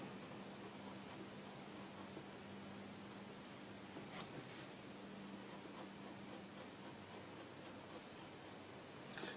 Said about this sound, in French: Il faut toujours dessiner avec beaucoup de douceur quand on dessine des yeux.